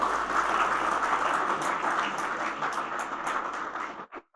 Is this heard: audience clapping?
yes